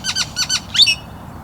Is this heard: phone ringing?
no